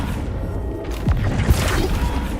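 The Flipendo spell cast in Hogwarts Legacy gives a deep magical boom and thump over a rumbling game background, with one short impact and no talk.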